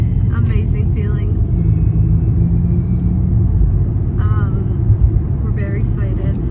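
A car cruises on a highway at 2 AM, with a loud, steady low rumble of road and engine noise filling the cabin while people talk intermittently over it.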